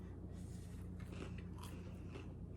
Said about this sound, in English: take a bite of the sandwich